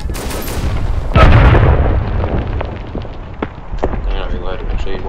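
Rifle fire in the WWI shooter Verdun: one loud, close shot cracks out with a heavy boom, then scattered sharper shots pop further off amid battlefield noise.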